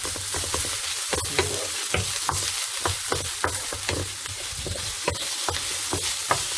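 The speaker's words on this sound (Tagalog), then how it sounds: "Mix together until the bacon is cooked" Bacon frying in a pan for a potato and cherry tomato frittata, with a continuous sizzle broken by repeated sharp scrapes and knocks of a utensil stirring it, close and without talk.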